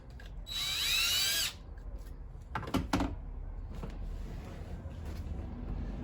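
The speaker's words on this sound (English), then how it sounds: "So be careful on drilling the proper size" A power drill whines steadily for about a second as it bores a hole into a car's plastic dash bezel for an LED, followed by a few knocks and handling clatter.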